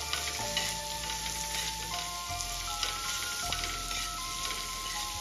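Grated beetroot sautéing in a pan for Mumbai street-style masala pav gives a steady, close sizzle and hiss that runs unbroken throughout, with faint ticks from the pan and no voices.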